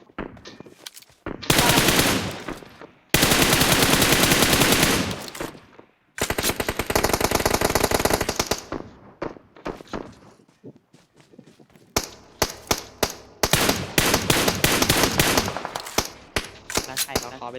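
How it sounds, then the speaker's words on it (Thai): Gunfire crackles in the PUBG Mobile video game, with loud bursts of automatic fire and single sharp shots broken by short pauses, close and dominant throughout. "นี่ไงมันยิงแล้ว"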